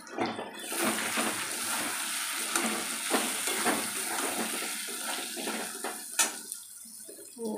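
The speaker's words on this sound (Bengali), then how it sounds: "দেখো আলুগুলো দিয়ে দিয়েছি, হলুদ গুঁড়ো, লঙ্কার গুঁড়ো, এই হলুদ জিরার গুঁড়ো।" Potatoes sizzle in hot oil with turmeric, chili and cumin powder, a steady dense frying hiss with scattered clicks and scrapes of stirring, close and fairly loud, one sharp knock near the end.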